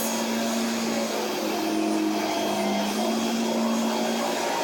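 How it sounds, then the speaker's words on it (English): A household vacuum cleaner runs steadily and loudly from start to finish, a constant whining drone with no talk over it. "I hear the vacuum turned back on"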